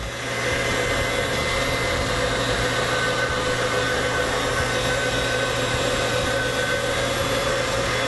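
Pasta dough runs through the rollers of a motorized pasta machine in a kitchen, a loud, steady mechanical hum and whir that continues evenly for about eight seconds with no speech.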